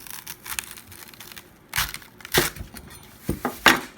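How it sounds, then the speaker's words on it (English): A knife cuts through the base of a bok choy, or Chinese cabbage, giving several crisp crunching snaps that rise from soft rustling to a few sharp, close cracks near the end. "If you've never worked with bok choy, and I was saying it's like celery, just give it a cut right here at the bottom."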